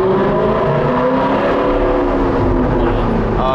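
An Alfa Romeo 8C Spider revs hard inside a tunnel, its engine note loud and close, booming and echoing off the walls as it climbs and holds steady throughout, with no talk over it.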